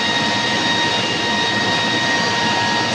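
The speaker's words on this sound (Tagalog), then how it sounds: "Ito po yung sa variable frequency drive raw water booster pump number 2." Raw water booster pump number 2 running on a variable frequency drive gives a loud, unbroken mechanical roar with a constant high tonal whine layered on top, close up and without talk.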